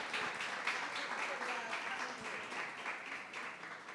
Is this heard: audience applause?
yes